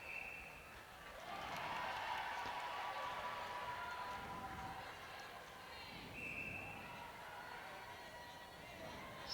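Stadium crowd at a Samoa rugby match settling into the stands, a steady broadband murmur of many voices and movement with scattered claps and calls throughout, fairly loud and continuous.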